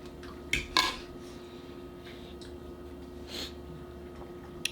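A spoon clinks against a glass while stirring a ketone salts drink, two or three sharp metallic taps near the start and another soft one later, over a quiet room hum.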